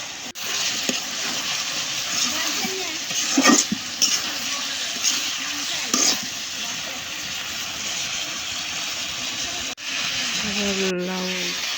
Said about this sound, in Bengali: নাড়াচাড়া দিয়ে নিলাম।